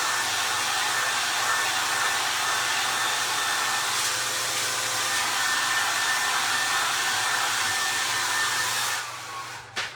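A hair dryer runs loud and steady to dry crackle-finish pictures on a Dollar Tree jar, a constant close whooshing roar with a faint whine that cuts off abruptly near the end.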